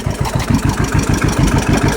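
A steady, close engine idle with an even low pulsing throb and no change in pace, running alone without any talk.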